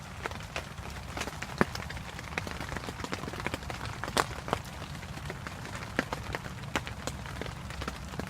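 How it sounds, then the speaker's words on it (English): Heavy rain pours steadily outdoors beside a small coffee-can alcohol heater, a dense continuous hiss with scattered louder drops and patters striking a surface, with no talking over it. "It's still raining hard too."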